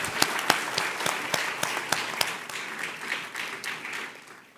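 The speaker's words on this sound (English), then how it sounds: "I think we ought to give this team here and the wider FSC staff a bigger round of applause" Applause from the audience at a public consultation and website launch event: many hands clapping together in a steady stream, with some sharper individual claps standing out near the front.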